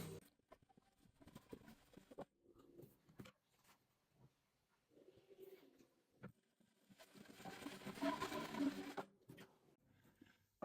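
A sewing machine stitches seams on a 3D quilted single bedspread with a metalassê lining, running in short bursts of rapid chattering with pauses between runs, then one longer, louder stretch.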